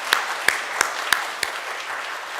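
A small church congregation at a Sunday worship service claps for the men's mission group, about five distinct sharp claps spaced at a loose, slowing rhythm, then quiet.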